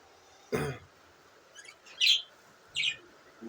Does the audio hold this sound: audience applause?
no